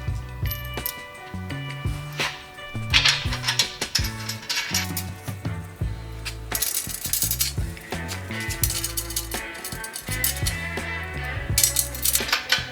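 Metal hardware clinks and a ratcheting tool clicks in rapid runs while nuts and bolts are tightened on a Trackchair rear utility rack, close and fairly loud, with brief pauses between bursts.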